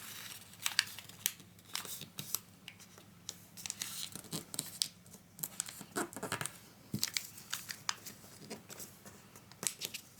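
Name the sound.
folding origami paper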